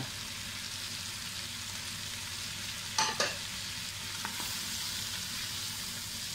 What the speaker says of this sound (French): on va mettre nos légumes et on va les faire suer